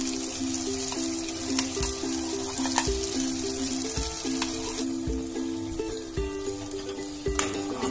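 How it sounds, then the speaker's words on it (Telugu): Coconut masala paste fries in a pan for a drumstick chicken curry, a dense continuous sizzle and crackle over a steady droning hum, with occasional clinks from stirring. "ఈ మసాలాను కూడా ఒక 2 మినిట్స్ వేయించుకుందాం"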